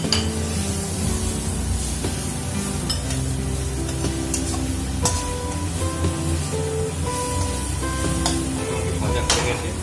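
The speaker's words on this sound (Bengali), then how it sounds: "ক্যাপসিকামটা হালকা ভাজা হলে গ্রিন মটর আর কর্নটা দিয়ে দেবে।" Capsicum frying in a wok with green peas and corn about to go in, a steady close crackling sizzle with stirring clatter and light scraping running throughout.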